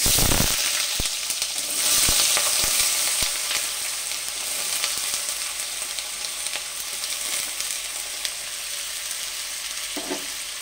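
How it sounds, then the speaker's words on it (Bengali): Steady, close sizzling of potatoes frying in hot mustard oil, a continuous crackling hiss with occasional sharper pops, no voices. "আলুগুলোকে ভালো করে ভেজে নেব।"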